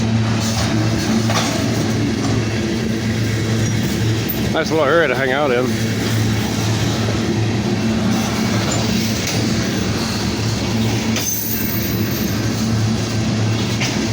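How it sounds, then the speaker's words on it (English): A long, loaded freight train of tank cars and a couple of boxcars rolls past fairly fast, a steady loud rumble with rail squeal partway through and a person speaking briefly over it. "this is a long train, so there are a lot of tankers on this one"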